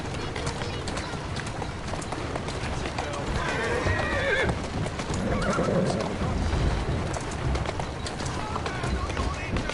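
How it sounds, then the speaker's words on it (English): A horse whinnies over steady clip-clopping hooves in the video game Assassin's Creed Syndicate, with a voice speaking intermittently throughout; the scene sounds busy and close. "Who's a good horse? You are."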